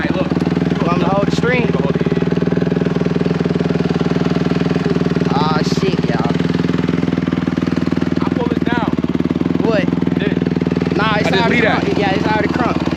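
A dirt bike engine runs steadily, a loud close idle with a constant buzzing drone throughout, while people talk over it.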